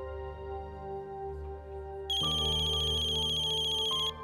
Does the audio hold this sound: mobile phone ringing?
yes